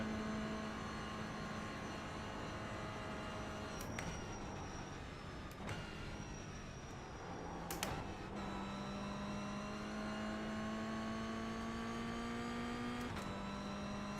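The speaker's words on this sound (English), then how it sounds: "Hearing the engine struggle on power." Toyota GR86 engine struggling for power in the iRacing sim at the Nürburgring, a droning whine that climbs steadily through each gear, broken by abrupt shift drops, with no voices.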